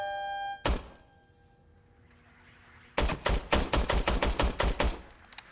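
Gunfire in RoboCop: Rogue City, a single loud shot followed by a pause, then a rapid run of about a dozen evenly spaced, punchy automatic shots, close and dry.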